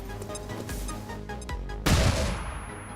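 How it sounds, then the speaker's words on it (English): A flashbang grenade detonates in the XCOM 2 video game with a sudden sharp boom and crash that follows a stretch of busy game noise and rapid clicks. It is loud and close, and no one talks. "Let's actually flashbang all 3 of them."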